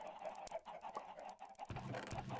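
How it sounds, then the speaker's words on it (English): Chickens clucking on a Minecraft egg farm, a steady stream of short game-sound clucks at moderate loudness with no talking. "Lots of eggs, lots of chickens."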